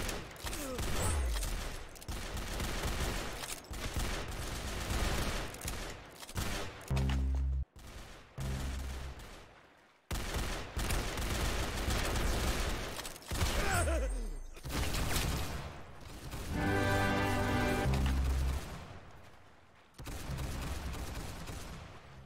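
Gunfire in a shooting video game, dense continuous volleys of loud shots with brief pauses and game music or effects mixed in, no clear talk.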